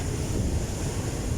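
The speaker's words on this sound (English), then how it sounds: "You can hear the wind blowing, but I'm hiding behind a rock here." Strong wind buffeting at the seashore beside surf, a loud continuous roar of gusts hitting the microphone with waves washing underneath.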